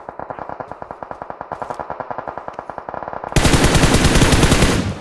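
Rapid automatic gunfire in PUBG Mobile, a loud, evenly spaced burst of shots lasting several seconds. It then gives way to a sustained roaring blast of noise, with no talk.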